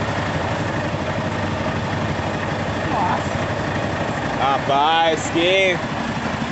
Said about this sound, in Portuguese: Isso é motor.